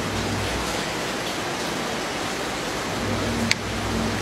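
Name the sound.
rain falling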